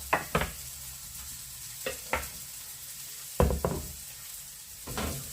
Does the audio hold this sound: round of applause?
no